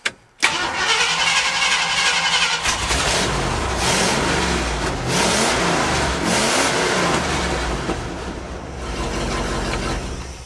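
A farm truck's engine, just repaired after its ignition points were cleaned, cranks and fires up after a brief pause, then revs up and down loudly and settles into a steady rumbling idle with a final rise.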